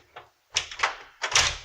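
An apartment's front door, newly replaced, swings and closes softly in a hallway, giving a few close, muted thuds and brushing sounds with no one speaking.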